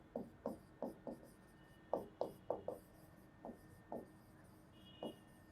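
Chalk or marker taps and scratches on a board during a fluid mechanics lecture, in short irregular strokes, faint and close, with no talking over them.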